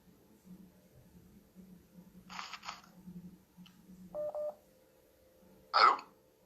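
Electronic telephone tones of an incoming call during a call-in show: a short double beep near the middle and a louder tonal burst near the end, with faint background hum and murmur.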